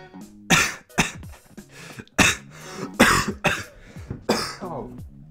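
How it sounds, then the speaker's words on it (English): Several harsh coughs in close succession, loud and near, with throat-clearing sounds between the bursts. "that cough really ruined the reaction"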